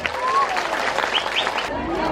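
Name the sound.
audience applauding for Pak Prabowo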